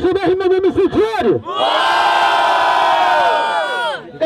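At a Batalha do Tanque rap battle final in São Gonçalo, a voice speaks for over a second, then a large crowd erupts in loud, sustained cheering and yelling.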